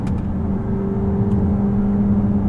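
Mercedes GLA45 AMG engine while driving, a steady low rumble and whir heard from inside at a constant pitch, loud and continuous with no voices.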